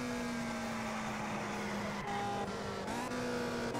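A race car engine in the Indianapolis 500 Evolution video game holds a high, steady drone down the main straightaway at Trenton, its pitch shifting slightly as the car runs flat out, with no talk.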